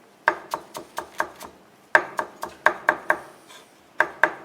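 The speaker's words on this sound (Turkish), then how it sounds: "Ardından yine maydanozumuzu ince ince kıyıyorum." Parsley being finely chopped with a knife on a cutting board, sharp crisp blade strikes in quick regular runs of a dozen or more close taps, with short pauses between bursts and no talk.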